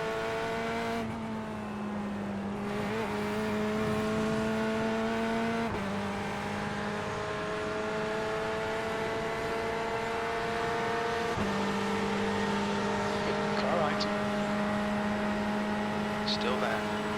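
A BMW GTE race car's engine on overrun and under power during a sprint race at Le Mans in iRacing, steady droning harmonics with repeated gear shifts, loud and continuous, with a voice talking over it.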